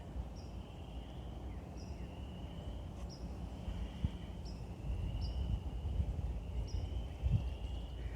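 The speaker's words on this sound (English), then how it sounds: "Love that frog sound." Frogs call in a steady series of high, repeated peeps from a distance, layered over a continuous low hum from a large Alcoa industrial plant.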